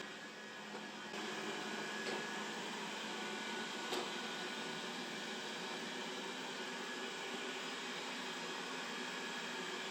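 A Dreame D10s Pro Plus robot vacuum runs with a steady, faint whirring hum and airy motor noise, its rotating brush slowed, with a couple of soft clicks.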